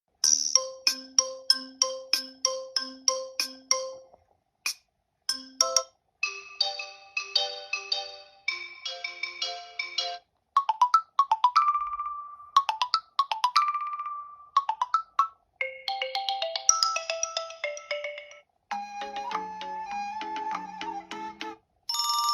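A Tecno Spark Go 2024 phone plays a string of ringtone melodies through its speakers at maximum volume, close and fairly loud: bright, plucky electronic notes in short repeated phrases, with brief pauses as the tunes change.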